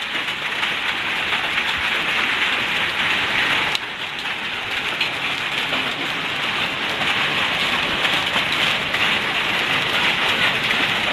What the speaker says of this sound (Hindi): ये देखें ओले पड़ना शुरू हो गए हैं